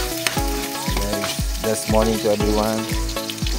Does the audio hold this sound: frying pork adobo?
yes